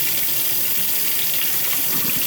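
Water drains steadily from a kitchen sink through a freshly repaired drain line, swirling down in a whirlpool with a continuous close rushing, gurgling wash and no talking.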